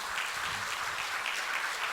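A church congregation at a revival meeting in Korea breaks into steady, full applause, a continuous wash of many hands clapping at even volume throughout.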